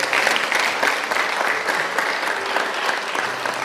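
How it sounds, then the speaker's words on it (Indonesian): Sustained applause from a seated audience at a religious talk, dense steady clapping filling the whole stretch at an even level, with no voices standing out. "Tepuk tangan"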